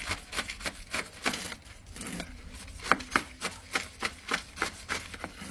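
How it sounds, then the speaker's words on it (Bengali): A knife jabbed repeatedly into the soil around a potted rose plant, making quick, rhythmic crunchy stabs with scratchy soil noise, close and fairly loud. "এই ছুরিটার সাহায্যে এগুলোকে গ্যাপগুলোকে কুচিয়ে কুচিয়ে ভিতরটায় ভালো করে এয়ার টাইট করতে হবে"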